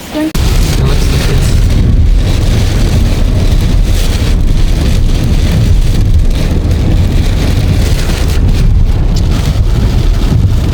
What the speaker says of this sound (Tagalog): But then it's still raining though.